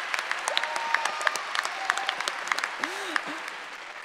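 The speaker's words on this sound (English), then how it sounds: "You can clap for me, I don't care." Audience applause fills a graduate college commencement ceremony hall, a steady wash of many hands clapping with sharp individual claps standing out. It stays moderately loud throughout, with a faint voice briefly rising beneath it.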